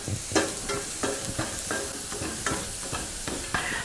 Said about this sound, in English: just saute it for 30 seconds to a minute or until you smell garlic hitting your nose